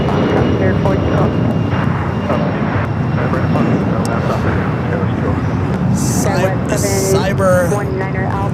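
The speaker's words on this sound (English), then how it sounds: "Skywest 201 Hotel, RNMC Doctor, wind 23013, runway 25 right at Foxtrot, cleared for takeoff." A SkyWest airliner takes off from runway 25 right at LAX, a loud, steady engine roar that holds throughout with faint radio chatter and voices mixed in.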